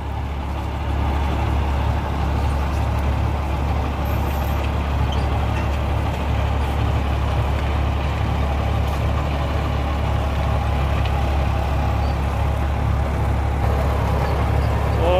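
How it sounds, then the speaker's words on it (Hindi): A John Deere 5405 tractor pulling a Landforce eight-foot super seeder through a wheat field, its engine giving a steady, even drone throughout with no talking. "बढ़िया चल रहा है ट्रैक्टर भी और ठीक लग रहा है सुपर सीडर भी।"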